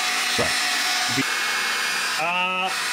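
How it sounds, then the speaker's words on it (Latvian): Hair dryer heating car interior trim while a BMW G20 cabin is taken apart, a steady airy whir with brief knocks and clatter, then a short motor whine near the end. "Nekāds sausais ledus, nekas nav labāks, kā uzsildīt ar fēnu un uzkāpēt nost."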